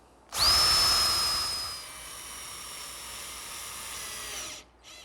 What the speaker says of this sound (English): I'm now pre-drilling some holes for screws to assemble the case